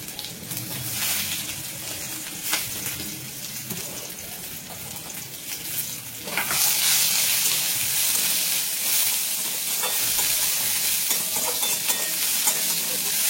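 Chopped garlic and onion fry in hot oil in a pan for sambar, a dense steady sizzle that grows louder and brighter midway, with occasional stirring scrapes and no talking.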